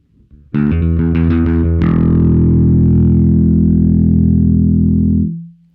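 A distorted Michael Kelly Vintage Element 4 electric bass played through an effects pedal strikes a few quick notes, then holds one long, loud, sustained note that rings out before cutting off.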